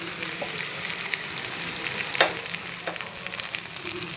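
Chopped onions and garlic fry in a pan, a steady close sizzle with occasional stirring scrapes and a soft clack partway through, no talking.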